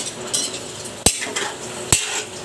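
A utensil stirs fish adobo with potatoes in a pan over a soft background sizzle, with two sharp clinks of metal against the pan and lighter scraping in between.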